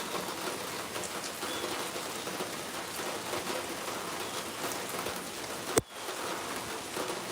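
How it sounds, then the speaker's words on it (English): Rain patters steadily and close onto a phone in a dense, even hiss of drops, with one sharp tap or knock standing out near the end. "Now the rain keep touching my phone"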